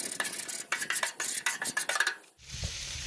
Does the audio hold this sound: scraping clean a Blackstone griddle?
yes